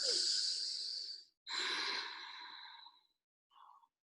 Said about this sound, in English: 3 deep belly breaths here.